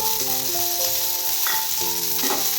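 Chopped onions sizzle steadily in hot oil in a pan, a loud continuous frying hiss with faint stirring, made while cooking a mutton sambar.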